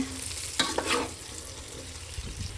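A spoon stirs ground masala powder into capsicum curry frying in oil in a pan, giving a brief scraping burst over a low, steady sizzle.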